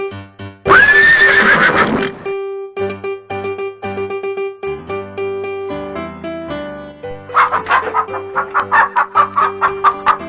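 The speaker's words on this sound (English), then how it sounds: "Horse." A horse gives one loud, close whinny near the start, set over steady musical backing tones, followed by a run of short rhythmic pulses like hooves clopping.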